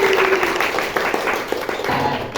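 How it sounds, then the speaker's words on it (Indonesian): A brief patter of clapping from a small class of students, light and uneven, fading out after a couple of seconds. "Tepuk tangan."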